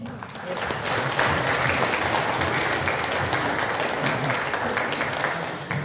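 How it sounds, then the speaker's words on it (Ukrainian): A crowd at a charity concert in Truskavets applauds volunteers with full, sustained clapping that builds quickly and stays strong, with a faint crowd murmur beneath it. "давайте ще підтримаємо оплесками наших волонтерів"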